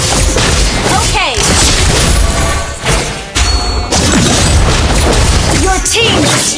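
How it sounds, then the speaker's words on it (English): In the Mobile Legends video game, a turret is destroyed with a heavy booming explosion and crashing debris. Loud game music and effects run throughout, with a brief dip partway through, and there is no clear talk. "Your team destroyed a turret."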